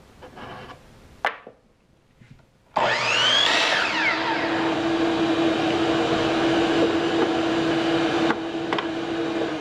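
After a couple of quiet knocks, a power saw spins up loudly and cuts steadily through a 2x4 wood board, a continuous whining roar close by.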